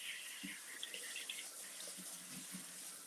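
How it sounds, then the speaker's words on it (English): Tap water runs steadily into a kitchen sink while Brussels sprouts are rinsed under it, a continuous close hiss with a few soft knocks and splashes. "Let's go ahead and rinse them off."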